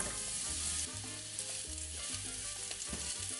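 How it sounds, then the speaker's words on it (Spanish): Mushrooms sizzling in hot oil in a pan, a close, dense frying hiss with faint scraping and stirring over a low hum. "Cuando el aceite se caliente agregamos los champiñones y freímos por un minuto."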